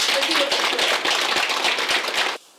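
An audience applauding at the presentation of a book of memoirs by residents of the Nenets Okrug about their childhood: dense, lively clapping for about two seconds that then stops abruptly.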